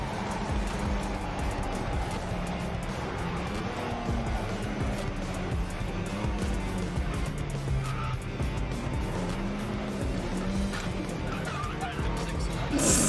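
A car skids with its back end out, tires squealing in long wavering tones over steady engine roar throughout, during a street racing taxi ride.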